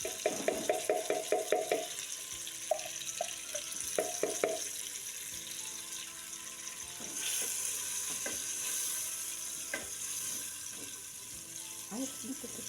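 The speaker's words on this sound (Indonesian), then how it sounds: "Tumis bumbu halusnya." Ground spice paste sautés for a yellow chicken opor, with a soft, steady sizzle under sharp rhythmic metal taps and scraping stirs, then a short stretch of running water.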